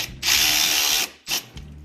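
A ratchet tightens T27 and T40 Torx bolts on a Trail Armor skid plate for a Polaris Sportsman/Scrambler 850/1000 ATV, giving a long, loud run of rapid clicks, a brief pause, then a short second burst, close by.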